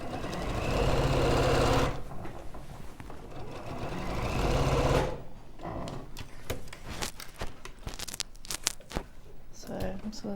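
A sewing machine quilts the negative space on a quilt, running in a loud steady burst for about five seconds, then giving way to intermittent short clicks and stops as a voice talks nearby.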